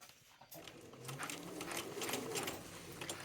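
A sewing machine runs steadily, stitching a jacket undercollar at a 5/8 seam, its fast even whir close and continuous after a brief quiet start.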